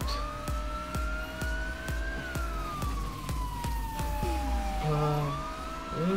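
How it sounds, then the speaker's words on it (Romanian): Police car siren wailing in the game GTA San Andreas multiplayer (SA-MP), a rising and falling tone over a steady rhythmic thumping beat, with a voice briefly talking underneath. "Scoatem și sirena asta super enervantă."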